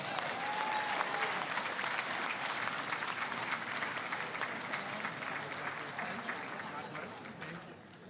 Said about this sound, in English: Let's all welcome Al Muskovitz to the podium.